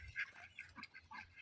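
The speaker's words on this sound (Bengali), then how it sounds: "এখন আজকে মাশাল্লাহ প্রায় 31টার মতো হাঁস হয়েছে।" A flock of about 31 domestic ducks gives short, close quacking calls in uneven bursts, fairly faint, with no talk over them.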